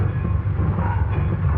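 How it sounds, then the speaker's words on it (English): A train rolls along in a railroad yard in a 1930 setting, a steady low rumble filling the whole moment without break, fairly loud and close, with no voices over it. "See that train down there?"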